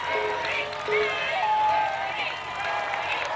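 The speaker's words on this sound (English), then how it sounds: "And the crowd chanting Booty." Spectators at an American Ninja Warrior course chant and cheer for the competitor Booty Cothran, a steady crowd roar with whistles and shouts beneath a commentator's voice.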